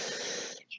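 A bird gives a loud, harsh, screechy call lasting about half a second, followed by a brief fainter note.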